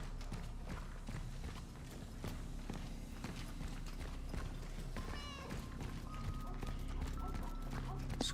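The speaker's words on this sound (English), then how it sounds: "I hear cat noises." A cat meows in the video game Cronos: The New Dawn, a short rising call set against a steady low game ambience with footstep-like clops and scattered clicks.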